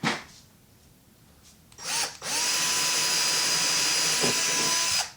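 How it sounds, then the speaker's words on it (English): After a few quiet handling noises, a power drill spins up and runs loudly and steadily up close, boring a hole in a wall for a corner shelf mount for several seconds before stopping. "we are going to go ahead and drill a hole where we marked right over here"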